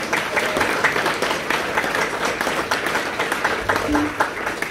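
An audience at a folk music celebration applauds a man just introduced, a steady close wash of many hands with a brief voice near the end.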